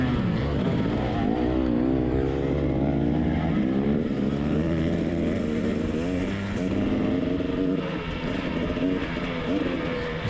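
A motorcycle at full throttle down a long straightaway during an NMA Round 8 race at Hareport in 2019, its loud, close engine whining steadily with rising and falling pitch as it shifts, no speech.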